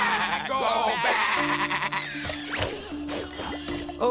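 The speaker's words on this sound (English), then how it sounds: "the sheep have turned completely evil for some reason" Sheep bleat in the video game Skylanders Imaginators, wavering cries repeating over game music and effects.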